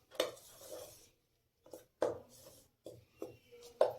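A spoon scrapes and knocks against a bowl while maida and besan are mixed for crispy potato snacks: a few separate close scraping strokes with short pauses between them, and no talking.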